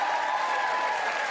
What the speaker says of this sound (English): I think I deserve a round of applause for that.